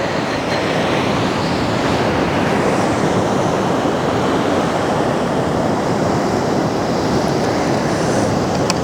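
Ocean waves wash steadily onto the shore in a loud, continuous roar of surf with wind noise mixed in. No voices are heard.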